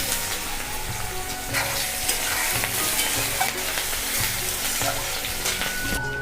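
A large onion fries in a pan with cinnamon, cloves and five-spice seeds, giving a loud continuous sizzle with steady rhythmic stirring scrapes close up, no voices.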